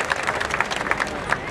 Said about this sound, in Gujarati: તાળીઓના ગડગડાટથી એમને પણ વધાવીએ